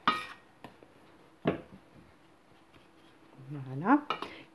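Zlabia batter is mixed in a bowl with a spoon, giving a few sharp clinks and scrapes between quiet pauses, with a brief voice near the end.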